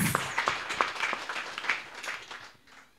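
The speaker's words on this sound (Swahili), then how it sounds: "Let's clap for Jesus." A church congregation claps for Jesus during a Swahili-language service, with scattered, uneven hand claps over a few seconds that thin out toward the end, and faint voices underneath.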